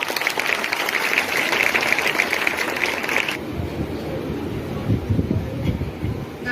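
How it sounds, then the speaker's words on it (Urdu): A school audience at a Defense Day speech event gives a student speaker a dense, loud wash of applause that cuts off abruptly after about three seconds, leaving a quieter, rumbling room. "آپ کی بھرپور تالیوں میں حمزہ مشتاق"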